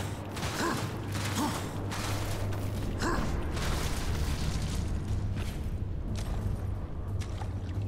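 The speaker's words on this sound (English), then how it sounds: "That's an elevator." An elevator moves in the video game Darksiders, a steady low mechanical rumble with rhythmic creaking pulses and clanks, loud and continuous throughout.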